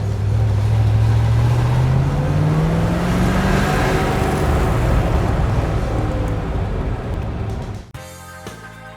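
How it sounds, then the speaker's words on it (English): A 1972 Corvette LT1 small-block V8 with solid lifters pulls hard, its deep exhaust rising steadily in pitch under load for several seconds before abruptly cutting back near the end. "And this small block certainly has plenty of punch. And you can always hear those solid lifters."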